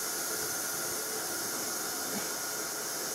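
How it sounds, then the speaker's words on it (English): Steady hot steam hissing from a cooking setup, a broad, loud, continuous rush with no breaks and no voices. "Just watching the steam go right up into our overhead cameras."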